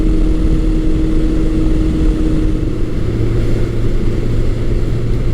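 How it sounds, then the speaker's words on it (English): A 1984–1986 Honda Nighthawk 700S motorcycle pulls hard through its rev range, its engine droning loud and steady with a slowly climbing pitch, close and unbroken. "It's amazing how friendly this bike is throughout most of the rev range and how strong it comes on up top."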